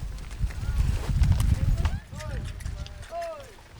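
Horses' hooves clip-clop on a trail as riders drive a cattle herd toward town, a rapid, fairly close drumming under people talking and calling out.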